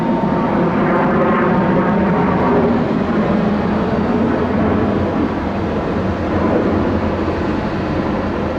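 An airliner takes off from runway 26 left at Atlanta's international airport, its engines sending up a loud, steady broadband roar that runs unbroken and close throughout.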